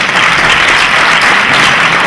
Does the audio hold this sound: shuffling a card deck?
no